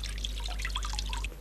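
Water drips and trickles as it is poured onto a potted plant indoors, a soft, close splashing that runs for about a second over a steady low hum before stopping.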